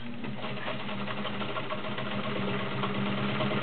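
A heavy-duty Kenmore Model 33 sewing machine stitches through three layers of leather, its motor running in a steady, rapid mechanical chatter close by.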